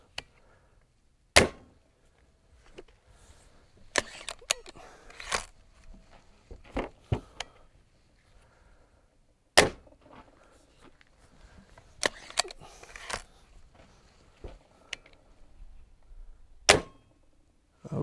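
.177 pellet air rifle firing heavy 10.6-grain pellets: several sharp, sudden cracks spread across the stretch, some single and some in quick clusters, separated by quiet handling noise.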